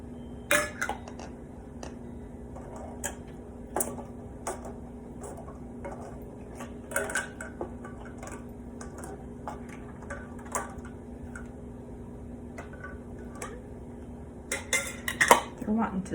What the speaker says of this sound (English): I'm lifting them directly out of the pan and sticking them on the jar